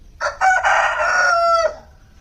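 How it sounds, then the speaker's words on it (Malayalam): A rooster crows once in a clear, fairly close call lasting over a second, rising then holding before cutting off, with quiet surroundings and no voices. "ഇതേ അപ്പുറത്ത് നിന്ന് ഒരെണ്ണം കൂവുന്നുണ്ട്"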